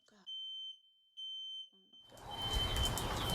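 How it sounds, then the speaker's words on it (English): A household smoke alarm sounds two loud, sustained electronic beeps, each about half a second long. A steady high whine continues between them, and broadband noise swells afterward. "so I can get my smoke alarms turned off"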